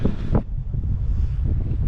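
Gusty wind buffeting the microphone in low, rumbling bursts, briefly and close up, on cold, muddy ground in Louisiana marshland.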